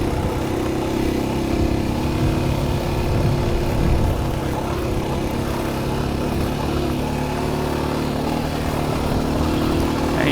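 An adventure motorcycle rumbles along a dirt trail on the New Mexico Backcountry Discovery Route, a steady, dense engine drone with wind noise, loud and unbroken throughout, with no talking.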